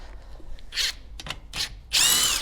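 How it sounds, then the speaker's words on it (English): A rattle gun (impact wrench) loosens wheel nuts on a kei truck in several short separate bursts, the last one longest and loudest, with quiet pauses between. "Just loosen them and I can get the rattle gun onto it."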